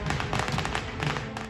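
Diwali fireworks and firecrackers go off in Delhi with rapid, dense crackling pops, a continuous sharp rattle of bursts that stays fairly loud throughout.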